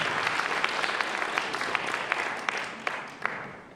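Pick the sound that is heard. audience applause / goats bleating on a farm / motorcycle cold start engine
audience applause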